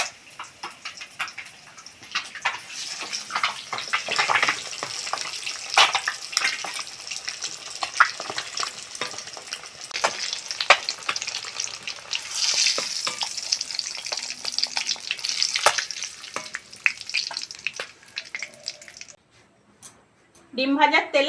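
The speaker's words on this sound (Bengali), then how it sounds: "ডিম ভাজার তেলে ফুলকপিগুলো ভেজে নেব।" Cauliflower florets fry in leftover oil from frying eggs, giving a steady close sizzle with crackling spatter and occasional stirring scrapes that carry on throughout before briefly dropping away near the end.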